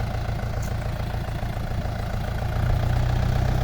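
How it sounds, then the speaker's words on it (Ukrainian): A small tractor engine pulling a seeder runs at a steady, rough low idle throughout, close and continuous, with a deep throbbing rumble that swells slightly toward the end and no voices. "Сівалочка, яку придбали тракторець і брат погнав сіяти."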